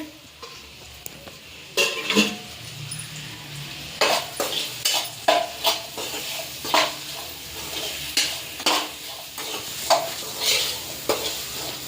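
Onions fry in oil in a pan for a paneer gravy, a low sizzle under repeated close scraping and clinking stirs of a metal spoon against the pan, coming in regular strokes after a quieter start.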